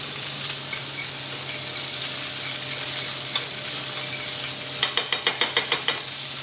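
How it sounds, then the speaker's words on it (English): Cheesy grits stirred in a pan beside a ribeye steak sizzling with Cajun seasoning, a steady loud frying hiss throughout, then a quick run of sharp scraping stirs near the end. "Let's check our grits, give them a good stir."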